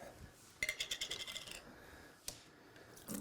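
Glass jar of capers in pickling brine taken out and handled in a kitchen, giving a quick run of close, bright clinks and taps followed by a single sharp knock and a few more faint rattles.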